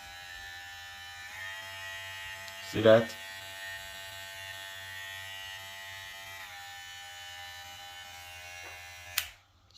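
A VGR V658 electric trimmer runs at a steady, fairly quiet buzz in turbo mode, with a short spoken remark partway through and a click near the end.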